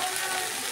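Chopped okra stir-frying in a pan, giving a steady, close, continuous sizzle with no voices over it.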